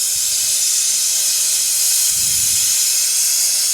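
A propane-oxygen torch flame for melting gold roars as a loud, steady, close hiss throughout, with a brief low rumble partway through.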